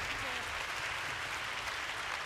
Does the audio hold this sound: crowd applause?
yes